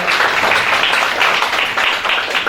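A church congregation applauds and cheers in praise of Jesus during an evangelistic worship service, a steady, dense wash of clapping and voices filling the room without a break.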